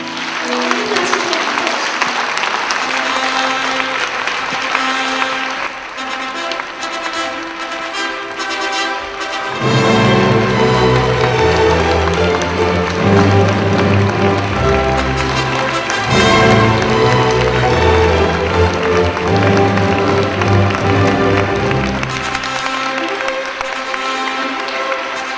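Big round of applause from the audience at a church Mothers' Day-style celebration honoring a pastor's wife, sustained and loud, blended with music that swells partway through.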